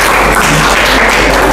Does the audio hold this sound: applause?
yes